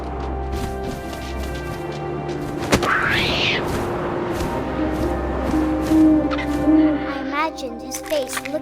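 A hooting owl in the video game What Remains of Edith Finch, one rising and falling call in the middle, set against a steady windy ambience with a sharp thud just before.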